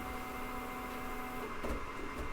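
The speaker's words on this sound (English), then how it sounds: "Printer's going to home." A steady mechanical hum with a sustained tone from a ZERO G Mercury One.1 3D printer, then a brief shift as motors whir and the printer homes into a new position.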